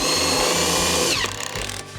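A power drill drives screws into a WeatherGuard piece, a close, high-pitched whirring buzz with pulsing low thumps that cuts off after about a second, followed by short bursts of lighter rattling.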